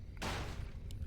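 Wisp detonate explosion in Warcraft III, a single brief burst that flares suddenly and fades quickly into a soft rumble, faint under the game's background sound.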